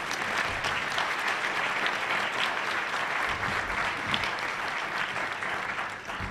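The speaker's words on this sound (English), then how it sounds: "please give them a warm round of applause" Luncheon audience at the National Press Club breaks into sustained, even applause, a dense wash of clapping from many hands that continues steadily throughout.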